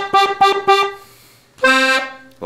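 Accordion playing the opening beats of a song: three short, punchy reedy stabs, a pause, then a sustained bright chord and a brief final note, close and unaccompanied.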